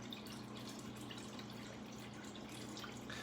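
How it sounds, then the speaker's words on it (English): Water flushing through two aquaponics bell siphons at once, a steady low gurgling rush with faint drips, continuous and fairly quiet throughout. "They happen to have both bell siphons flushing at the same time."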